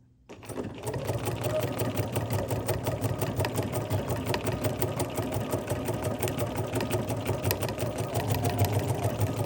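A BERNINA sewing machine sews decorative stitches slowly, starting after a brief quiet moment and then running steadily with a close, even mechanical hum and rhythmic needle ticking.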